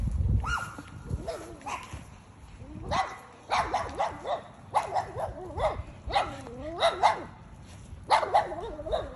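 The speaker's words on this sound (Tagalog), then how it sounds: "Matapang yung mga aso." Several small dogs bark in sharp, yappy bursts, repeating throughout with brief gaps, fairly close and loud.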